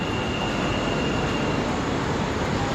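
Dubai metro train pulling into a station, a steady dense rumble and whoosh of the arriving train filling the whole moment at constant loudness, with no voices.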